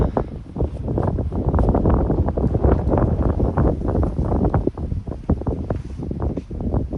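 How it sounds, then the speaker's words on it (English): Strong, steady gusts of high wind buffet the microphone at an outdoor shooting range, a continuous low rumbling roar that swells and dips throughout with no other clear sounds. "Got a high wind today"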